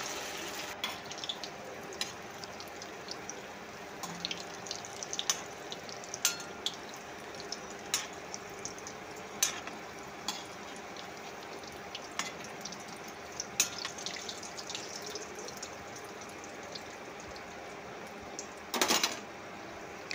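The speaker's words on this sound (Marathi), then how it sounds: "आता छान गोल्डन ब्राऊन होईपर्यंत मिडियम आचेवर तळून घ्यायचे" Soya koftas deep-fry in hot oil over a medium flame, a faint, steady bubbling hiss with scattered small pops and crackles and one louder sputter near the end, no talking.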